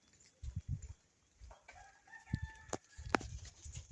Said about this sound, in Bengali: মোরগের দাগ গ্রামের মোরগের দাগগুলা